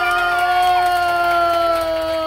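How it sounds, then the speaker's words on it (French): Passengers applaud and cheer for their driver: a brief burst of crowd clapping and shouting over a steady tonal hum, lasting about two seconds. "Applaudissez pour le chauffeur"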